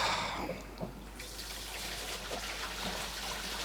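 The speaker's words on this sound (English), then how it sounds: "That's just someone going to the bathroom upstairs because we're in the basement." Water running through household pipes from a bathroom upstairs, heard from a basement as a steady, muffled rushing hiss with faint trickles throughout.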